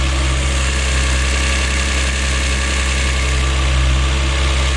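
A turbocharged Lexus IS200 engine runs steadily on its first start, a loud, close, continuous idle drone with a constant low rumble and a mechanical whir, no voices.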